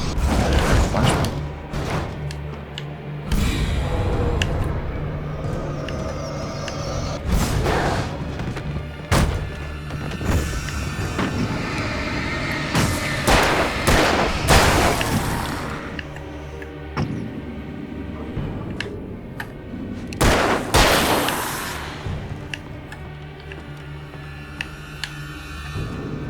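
Flashbang bursts and gunfire in the video game Alan Wake, with repeated heavy booms and thuds, sharp cracks and clanking mechanisms in uneven bursts over a low background hum.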